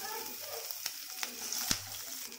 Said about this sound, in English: Now fry it nicely.